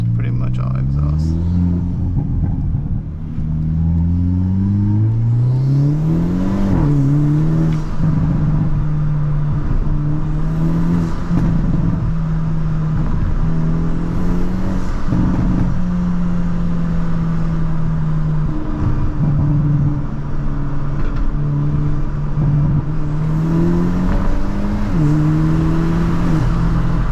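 A 2023 Hyundai Elantra N with an open air intake, driven in N mode, revs and shifts, its exhaust drone rising and falling steadily while people talk inside the cabin.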